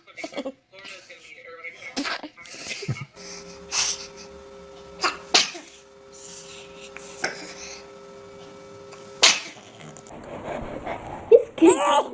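A baby sneezes repeatedly in short, sharp bursts spread across the stretch, close to the microphone, with adults talking softly between sneezes.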